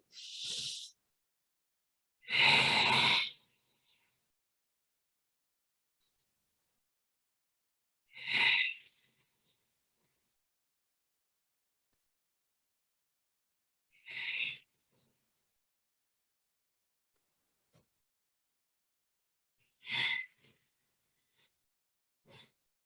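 Deep, audible yoga breaths during an Ashtanga practice, five or six separate sharp exhalations with long silent gaps between them, close and fairly soft, with no talking.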